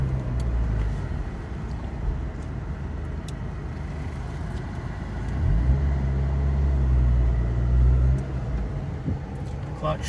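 A 1989 Acura Integra RS drives with its engine running steadily, a low continuous rumble that swells briefly as if accelerating, with no talking.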